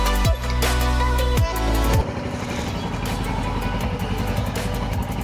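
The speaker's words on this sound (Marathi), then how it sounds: "चला आता कोल्ड स्टार्ट करूया." A motorcycle cold-starts before a monsoon touring ride in Karnataka, the starter cranking briefly before the engine catches and settles into a steady, loud, close idle with a throbbing pulse.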